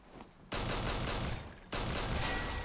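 Video-game gunfire in 50 Cent: Blood on the Sand, shooting enemies through walls: two loud sustained bursts of rapid shots, the first running about a second, a brief drop, then the second burst continuing to the end.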